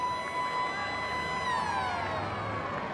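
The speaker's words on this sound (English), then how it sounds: "Half-time siren goes." A long wailing half-time siren sounds across a 1992 Brisbane versus Manly rugby league match, holding a steady tone and then sliding down in pitch, with crowd noise beneath.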